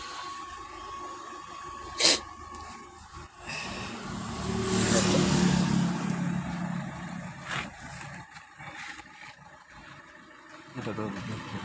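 A car engine with a fuel pressure regulator control circuit fault runs just after starting, a steady idling hum with a sharp click near the start and a louder swell in the middle, while a voice talks faintly over it.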